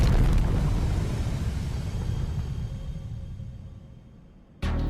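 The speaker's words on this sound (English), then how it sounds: "a monstrous explosion that came from Prism Tower" A monstrous explosion at Prism Tower in Lumiose City, from the video game Pokémon Legends Z-A: a loud, broad rumbling blast that slowly fades over several seconds before cutting off abruptly.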